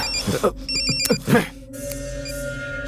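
An indoor telephone bell rings in a Hindi-dubbed film scene, with bursts of brief voices over the first half before the ringing continues alone more steadily.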